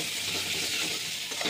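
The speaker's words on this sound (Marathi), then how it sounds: "आता हे छान मसाले परतायचे आहेत तेलावर." Ginger-garlic paste and spices fry in hot oil for a matki sabzi, giving a steady, close sizzle with light stirring throughout and no voices.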